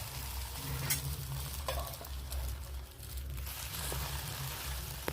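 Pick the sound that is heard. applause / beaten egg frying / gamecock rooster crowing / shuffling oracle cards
beaten egg frying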